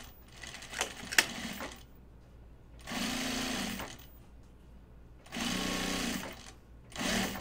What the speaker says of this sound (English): you're going to sew your binding to this bottom edge of the pockets